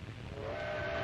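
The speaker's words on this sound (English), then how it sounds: "The train rattles across desolate country the Italians will have to fight across." A train rattling across a railway through desolate country during the 1935 Italo-Ethiopian War, a continuous dense rumble with a rising whistle-like tone, heard alone with no voices.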